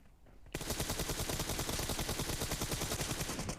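Sustained automatic gunfire in PUBG Mobile, a loud rapid burst of evenly spaced shots that starts suddenly after a brief quiet moment and continues steadily, with no talking.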